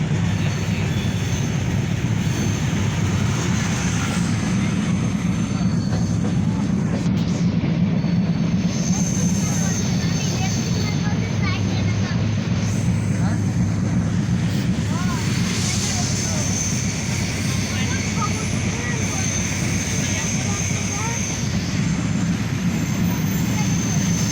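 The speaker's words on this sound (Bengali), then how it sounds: "অত্যন্ত সুন্দরভাবে ট্রেনটি চালিয়ে যাচ্ছে ড্রাইভার সাহেব।" A passenger train rolls toward Dhaka by way of the Padma Bridge, its steady rumbling drone and rail noise loud and continuous inside the carriage throughout.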